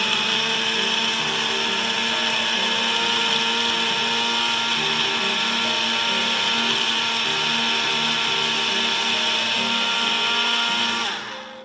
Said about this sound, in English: you put it on and you push down on it to blend